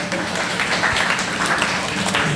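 Audience clapping at a young-adults investing townhall, a steady wash of many hands lasting a couple of seconds at moderate level.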